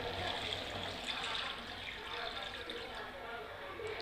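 Rice-washing water poured into a pot of chicken gravy gives a steady, close liquid splash and trickle lasting the full few seconds, with no talk over it.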